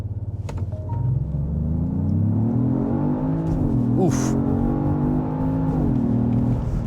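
A Genesis GV80 Coupe SUV engine rises steadily in pitch as it accelerates hard during a timed run. The loud rumble builds from inside the cabin, with a short exclamation from a voice.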